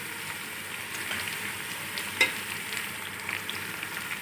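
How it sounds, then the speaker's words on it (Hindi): Onions frying in a small pot sizzle steadily with a busy crackle, plus a faint scrape or tap as they are stirred, heard up close with no voices. "और ये प्याज लाल करेंगे हमने, इसमें हम ये मसाला डालेंगे।"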